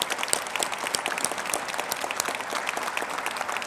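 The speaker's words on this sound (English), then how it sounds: "I'd just like to give everybody a round of applause for coming today and for getting this far in their Open University journey" Audience at a Brighton Open University degree ceremony applauding, a dense, steady patter of many hands clapping continuously with no talking.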